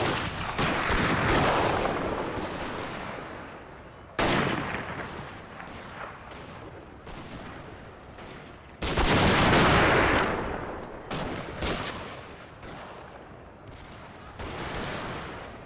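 Musket volleys and artillery fire from a Total War game battle recreating Gettysburg in the American Civil War: dense, continuous gunfire crackle with heavy booming blasts at about 4, 9 and 15 seconds, loud and without talk.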